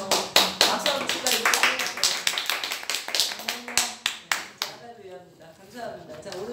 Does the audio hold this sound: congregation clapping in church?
yes